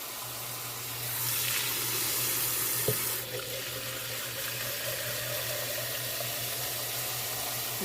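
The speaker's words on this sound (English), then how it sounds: "I'm just going to give them a good hot water rinse" Hot water runs steadily from a tap onto noodles in a strainer, splashing and hissing into a sink, with a brief clunk partway through.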